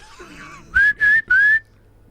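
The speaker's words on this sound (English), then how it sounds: "Can you whistle in French?" A person whistles three clear sustained notes in quick succession, close and loud, after a brief faint murmur.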